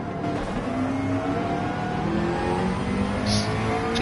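A McLaren race car's engine in an online racing league event, a loud, steady high-revving whine with shifting pitch as it accelerates, alongside other cars, close and continuous.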